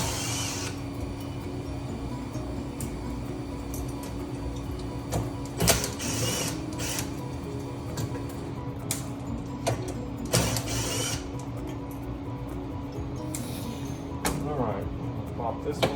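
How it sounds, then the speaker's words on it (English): A 3/8 ratchet working bolts out of a Merrychef e2s oven, with sparse clicks and metallic clanks over a steady mechanical hum, and a person talking throughout. "get set up for the 3/8 so that we can take the 8 bolts out"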